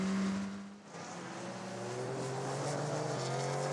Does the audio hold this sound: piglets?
no